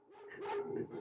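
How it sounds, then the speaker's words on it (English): Dogs barking in the background, a short burst of yapping, slightly muffled barks at moderate volume, heard alone. "Somewhere there's a bunch of dogs going completely mad."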